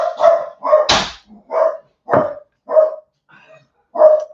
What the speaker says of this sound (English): that was the dogs